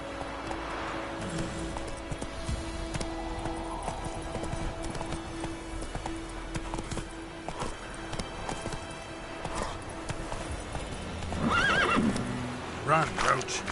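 Roach the horse in a video game neighs and gallops, steady clip-clop hooves running under ambient noise, with a brighter whinny near the end.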